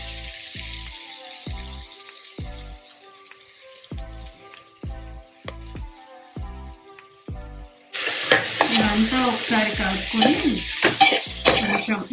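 Tomato slices fry in a pan for vegetable biryani with a steady close sizzle, and a rhythmic run of spoon taps against the pan in the first half. A louder, denser sizzle takes over for the final few seconds.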